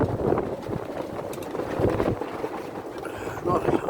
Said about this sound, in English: Get the wind on the mic for you. Here's a gust coming.